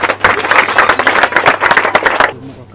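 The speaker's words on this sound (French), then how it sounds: "applaudissez" An audience applauds at a school bench ceremony, a burst of dense close clapping for a couple of seconds that stops abruptly, with voices mixed in.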